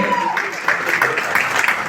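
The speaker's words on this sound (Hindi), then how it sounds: "जोरदार तालियां हो जाए" An audience at a Mirzapur Season 3 trailer launch breaks into applause, with clapping building in bursts under and around a host's speaking voice.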